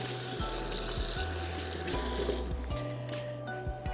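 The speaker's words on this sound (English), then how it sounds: "Rinse my hands again really quickly." Hands rinsed under a running kitchen tap, a steady loud splashing stream of water with faint clinks, close and continuous without talk.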